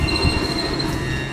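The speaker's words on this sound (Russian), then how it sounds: "Вот как раз сейчас поезд поехал" A very long, graffiti-covered freight train starts rolling along Route 66 in California, its wheels squealing with high steady tones over a low rumble, close and loud, with no voices.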